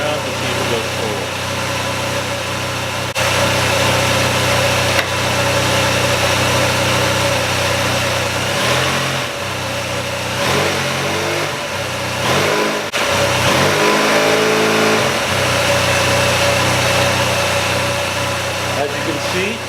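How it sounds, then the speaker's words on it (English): A Honda Silver Wing 600 scooter sits on its center stand while its engine idles and then gets a short burst of throttle, the motor note rising and falling, with a person talking over the running engine. "I'm going to give it a shot of gas while it's on the center stand to see if it goes forward"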